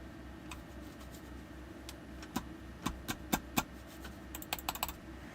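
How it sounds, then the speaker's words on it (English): A computer keyboard in a quiet room gets light, scattered keystrokes, a few isolated taps followed by a quicker cluster near the end. "It won't even like unlock on my keyboard."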